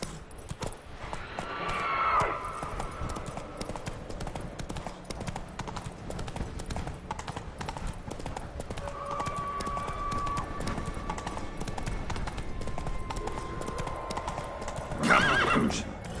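Roach the horse gallops in The Witcher 3 on PS4, with rapid, rhythmic hoofbeats running throughout, a couple of whinnies breaking in near the start and end, and faint game sounds underneath.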